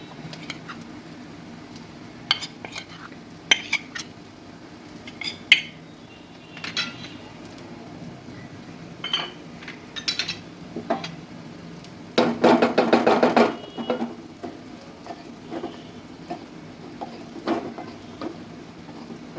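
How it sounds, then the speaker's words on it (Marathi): Gram flour toasting in oil in a pan over low heat, with scattered spoon taps and clinks, then a brief burst of brisk scraping near the end; quiet and close, with no talking. "मंद गॅसवर परतून घ्यायचं आहे."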